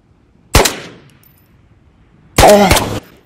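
Gunfire in the VR shooter Ghosts of Tabor: one sharp close shot, then after a pause a loud rapid burst of several rounds, each ringing out briefly.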